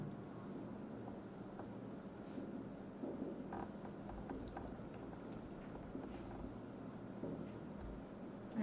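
Faint scratchy strokes of writing on a board during a matrix calculation, soft and continuous in a quiet room, with no talking.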